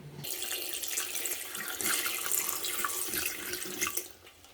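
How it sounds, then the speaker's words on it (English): Water runs steadily from a tap into a small tub-style washing machine loaded with three pairs of socks and soap, a continuous splashing gush close by that eases off at the end. "but I'll have to add more water."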